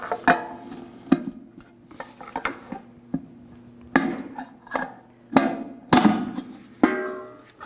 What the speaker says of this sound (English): Just use a pry bar and get behind here.